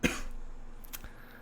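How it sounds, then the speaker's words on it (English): A single short cough sounds close to the microphone, followed by faint throat noise, indoors and otherwise quiet. "I'm still coughing."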